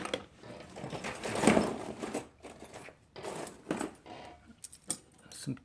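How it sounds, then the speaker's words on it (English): Keys from a garage sale tool haul jangle and clink in bursts, with a loud rattling cluster early on followed by several shorter metallic shakes, close and alone without talk. "Some keys."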